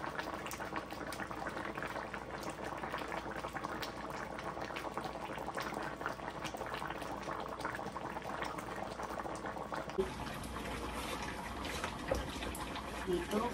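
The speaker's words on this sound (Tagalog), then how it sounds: "Kumukulo na siya." Steady bubbling and hissing of pork menudo boiling in a cooking pot, continuous and fairly quiet, with a slight shift in tone partway through.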